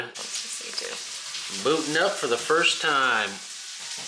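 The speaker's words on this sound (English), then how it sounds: "Sorry if you hear the steak sizzling in the background." Steady sizzle of steak frying in a pan hisses underneath as a person speaks over it, with faint electronic tones rising briefly in the middle.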